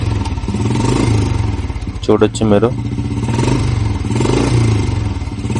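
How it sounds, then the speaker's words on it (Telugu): A Royal Enfield Bullet motorcycle, unused for ten years and just started, idles with a deep, steady thumping beat, close and loud, while someone speaks briefly over it. "ఇప్పుడైతే చూడండి స్టార్ట్ అయిపోయింది బండి"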